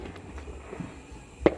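Backyard fireworks on the Fourth of July: faint distant crackles and thuds, then two sharp, loud bangs in quick succession at the end, heard outdoors without talking.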